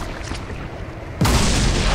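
Dynamite detonates in the game Viscera Cleanup Detail, a sudden heavy boom that cuts in over a steady rumbling background and then holds as a loud, broad roar to the end.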